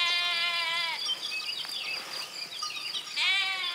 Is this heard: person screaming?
no